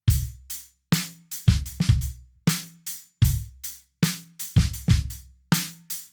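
A drum kit plays a steady, choppy groove of kick and snare ghost-note hits with sharp cymbal strikes, the kick following the left hand, each hit decaying quickly, played alone and close.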